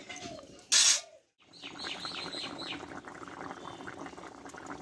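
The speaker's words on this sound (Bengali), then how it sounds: "তরকারি ফুটিয়ে নেব ছয় থেকে সাত মিনিট মতো" Potato and pointed gourd curry simmering in a pot, a soft continuous bubbling with bright chirpy pops, preceded by a brief loud clatter and a moment of silence.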